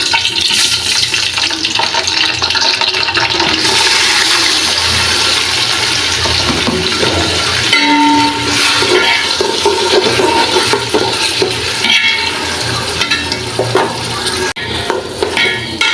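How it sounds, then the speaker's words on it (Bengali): Water running and swishing as rice is rinsed for a vegetable biryani, a loud continuous splashing rush with stirring and sloshing throughout, no talk. "এখন আমি চালগুলো ধুয়ে রাখছি এটা দিয়ে দিব।"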